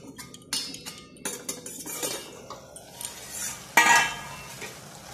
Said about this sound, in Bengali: এবার আমি ঢাকনাটা খুলে দেখে নেব